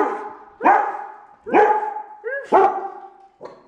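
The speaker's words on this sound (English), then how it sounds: "The dogs are going off." Dogs barking at home, four loud close barks spaced about a second apart with short pauses between, the last one cut short.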